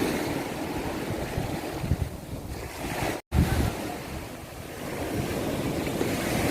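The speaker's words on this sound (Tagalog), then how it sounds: "Ngayon maalon na" Rough ocean waves surging and washing ashore during the southwest monsoon, with gusty wind buffeting the microphone, loud and continuous with a brief dropout midway.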